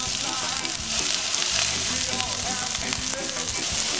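Sliced onions sauté with already-browned garlic in a hot pan as the base for a Filipino-style beef panang, giving a loud, dense, steady sizzle with faint crackles throughout and no voices.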